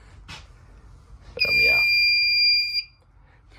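A Gentex Commander fire alarm on a Fire-Lite MRP-2001 panel sounds one steady high electronic tone for about a second and a half, loud and close, then cuts off, with a brief word spoken before it in a quiet room.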